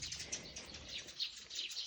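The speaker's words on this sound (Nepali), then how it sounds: "चराहरू take take take take take take take take गर्दैछ।" Small birds chirp and tweet in quick, scattered calls during a morning walk outdoors, the light high notes fairly faint and continuous over soft background noise, with no talking.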